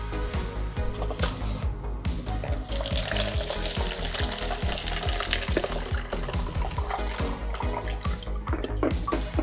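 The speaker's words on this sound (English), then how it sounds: "Okay, we pour out the bleach." Bleach being poured out during C-41 colour film processing, a steady loud liquid splash and gurgle with sizzling, fizzy texture that runs continuously for several seconds without talk.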